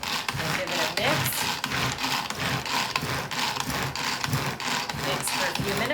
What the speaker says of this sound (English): Mix for a few minutes until it gets frothy.